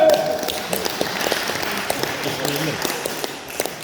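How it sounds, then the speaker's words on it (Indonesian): An audience at a Joger word-factory show in a villa in Bedugul, Bali, gives a short round of applause, scattered claps over a steady murmur of background noise. "Oke, tepuk tangan."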